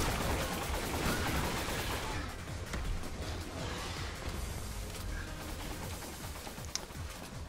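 Rapid gunfire from the Resident Evil 6 Mercenaries mode, a dense continuous barrage of shots and bursts filling the whole stretch, loud and close with little pause.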